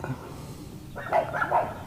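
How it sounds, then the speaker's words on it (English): A pair of neighbouring dachshunds bark a few times in short, sharp bursts in the later half, heard at a moderate distance outdoors over quiet background noise. "There's the neighbor's wiener dogs."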